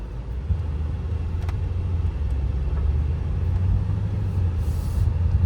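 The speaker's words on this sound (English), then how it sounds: "Let's see if it can make this turn in this tight parking lot." A BMW M5 Competition sedan creeps through a tight parking lot, its engine a steady low rumble close by with faint tire and surface noise, no voices.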